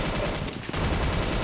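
Sustained machine gun fire in the mobile shooter Scarfall, a loud continuous rattle of rapid shots packed tightly together with only a brief dip midway.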